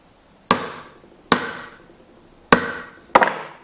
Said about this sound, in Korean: 그 망치로 때려서 구멍을 뚫어줄게요